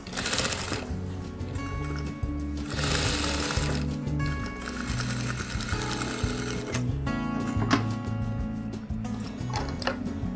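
A sewing machine stitches a headscarf hem, its needle mechanism rattling in a steady, rapid clatter that runs close and continuous for about ten seconds, with brief changes in pace.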